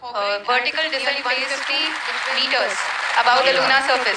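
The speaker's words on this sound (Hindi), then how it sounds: "आप इस तालियों की गड़गड़ाहट को सुन सकते हैं" Scientists in mission control applaud during the Chandrayaan-3 lunar soft landing, clapping running under a steady loud announcement voice counting down the descent.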